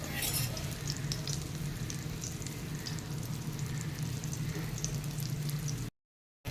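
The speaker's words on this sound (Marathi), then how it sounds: "आता ही वांगी आपण छान परतून घेऊयात" Stuffed brinjals sauté in a pan over low heat, giving a dense, continuous close sizzle that runs steadily before a brief cut to silence near the end.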